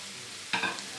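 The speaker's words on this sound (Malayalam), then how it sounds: "അപ്പോൾ ചേർത്ത് നന്നായിട്ട് വഴറ്റി കൊടുക്കണം." Carrot, beans, cabbage, capsicum and spring onion are sautéed in a pan for vegetable spring rolls, giving a steady close sizzle with one brief stirring scrape partway through.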